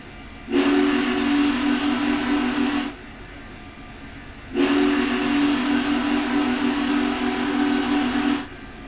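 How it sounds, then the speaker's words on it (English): Union Pacific 844 steam locomotive sounding its grade crossing whistle: two long, loud, steady blasts of about two and a half and four seconds, separated by a short pause, with breathy hiss over the tone. "That was a little bit early for a grade crossing whistle."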